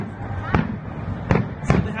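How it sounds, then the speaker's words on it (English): Fireworks burst in three sharp pops spaced apart, set against a steady background hum. "So they have fireworks"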